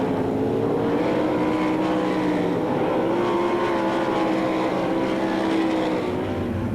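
Sprint cars with 360 engines race around the dirt oval at the Knoxville Nationals, a continuous loud engine roar from the pack that rises and falls slightly as the cars pass, with no voices.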